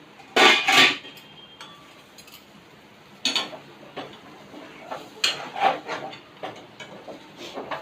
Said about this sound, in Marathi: आता मी पुन्हा झाकण खोलून बघते